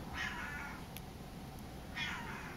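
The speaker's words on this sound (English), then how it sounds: "my cat is crying" Two plaintive meows from a crying cat, spaced about two seconds apart and fairly faint against a quiet indoor background hiss.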